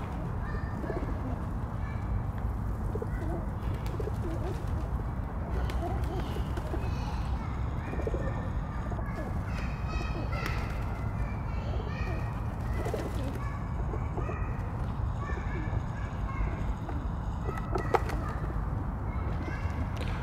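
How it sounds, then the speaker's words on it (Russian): Flock of pigeons cooing steadily around a feeder outdoors, layered soft coos over constant background rumble, with occasional wing flutters and faint bird calls throughout. "Я вот не понимаю, откуда тут столько голубей."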